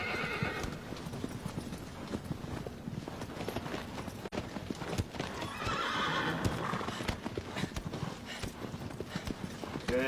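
Horse hooves clip-clop in a steady galloping rhythm through the whole stretch in Shadow of the Colossus, close and loud, with occasional neighs and whinnies over the pounding; no talk.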